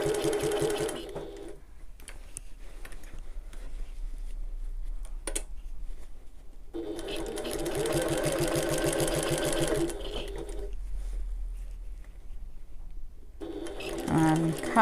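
A sewing machine stitches through a bag in two long bursts of rapid, even mechanical whirring, close by, separated by quieter pauses with small handling clicks.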